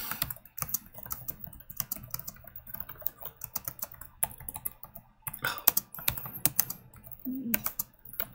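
Computer keyboard typing in a QWERTY layout, a steady run of quick key clicks with brief pauses, fairly close and alone with no voices.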